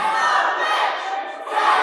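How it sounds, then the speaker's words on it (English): Town hall crowd chanting together in a loud, continuous mass of voices, sustained throughout with a brief dip near the middle before swelling again. "here you'll hear the crowd start to chant, tax the rich, tax the rich."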